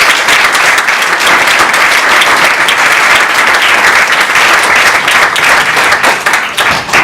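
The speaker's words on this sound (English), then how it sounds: "give them a big round of applause" Graduation ceremony audience giving loud, sustained applause, a dense roar of many hands clapping close and continuous, tapering slightly at the very end.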